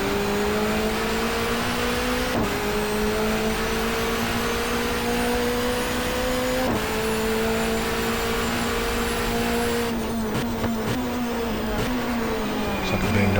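A touring car engine in the GTR2 racing game drones steadily at high revs, with sharp breaks where it shifts gears, then falls away as it drops back to second. A commentator speaks faintly beneath it.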